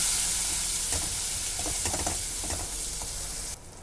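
Spice paste with a little water sautéed in a pan for a vegetarian puja thali, a loud steady sizzle under scattered spatula scrapes that cuts off sharply near the end, with no voices.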